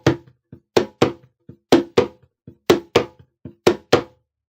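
A djembe is played in a muffled slap practice exercise: sharp, close hand strikes in a steady repeating rhythm, loud accented slaps alternating with soft taps, with no talking.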